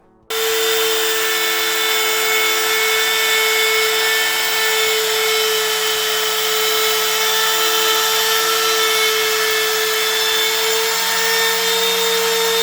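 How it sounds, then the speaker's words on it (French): A power router whines steadily and loudly at a high pitch, cutting the truss rod channel in a Telecaster guitar neck continuously without pause from start to finish. "commence la défonce du logement du truss rod"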